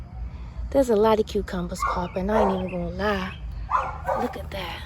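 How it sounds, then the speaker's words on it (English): A dog barks and yips in a neighborhood near a backyard vegetable garden, its sharp calls mixed under someone talking close by. "I'm so sorry about that dog barking"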